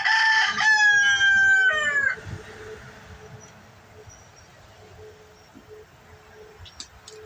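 A rooster crows once nearby, a loud, drawn-out cock-a-doodle-doo lasting about two seconds, followed by quiet outdoor background with faint scattered sounds.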